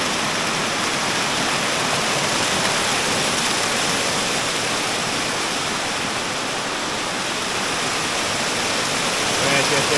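A waterfall on a river in Jamaica pours in a loud, dense, unbroken roar of rushing water, close by and steady from start to finish.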